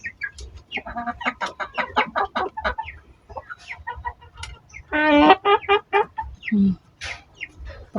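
A hen recovering from illness clucks in short, rapid bursts, close and fairly loud, with a brief louder squawking run in the middle and small pauses between calls.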